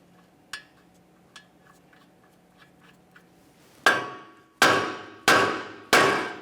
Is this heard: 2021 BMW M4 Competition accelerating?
no